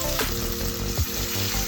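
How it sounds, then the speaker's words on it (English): Oil sizzles and crackles steadily in a pan, close and continuous, with a faint clink partway through. "Next I'm going to pop some oil in the fry pan"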